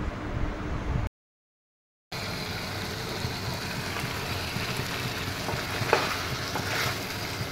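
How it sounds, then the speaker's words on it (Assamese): Chicken curry with tomato bubbles in a pan while being stirred, making a steady close simmering hiss with soft scrapes. A brief silent gap interrupts it. "ইয়া দেখিছেনে কিছু সময় যোৱাৰ পিছত ইয়া ধুনীয়াকৈ উতলিব ধৰিছে অলপ কৰি মই এনেদৰে এবাৰ লৰাই দিলোঁ"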